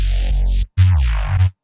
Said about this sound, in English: So what I've done here is I just got an auto wah, which sounds like this when you've got the mix up full.